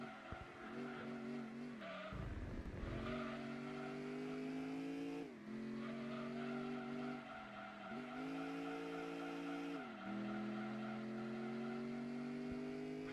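Racing video game car engine revving and dropping through gear changes, with brief tire squeal under braking, then flooring the throttle; the engine note climbs and falls repeatedly, close and continuous, no talk.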